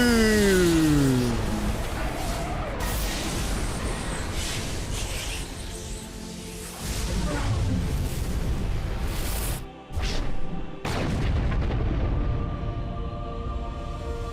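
Explosions and booming blasts rumble through chaotic combat in the sci-fi shooter Mass Effect 2, loud and dense with layered game effects, a brief dropout near the end before the din resumes.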